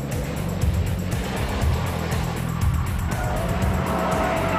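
A Mitsubishi Lancer Evolution with a double-clutch gearbox races hard into curves, its engine roaring steadily and loudly throughout with rapid gear-change pulses and a hint of tire squeal, no talk over it.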